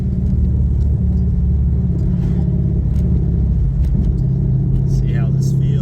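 A car engine idling after a tuning fix, a steady low rumble that continues throughout, with a brief rise partway through and some faint background noise.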